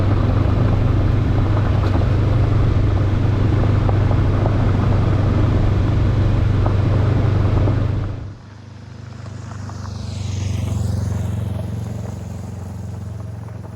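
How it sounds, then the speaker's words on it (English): A 2023 Honda CB500X adventure motorcycle cruising on a remote road, a steady loud engine and wind rumble that drops off sharply about two-thirds through, leaving a quieter, softer drone that swells slightly again. "Rolling along nicely, letting the bike move."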